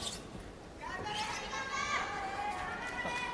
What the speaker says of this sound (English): Ganbare Harimoto, the crowd saying